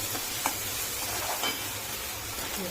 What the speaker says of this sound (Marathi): तेल सुटतपर्यंत असं चांगलं परतून घ्यायचं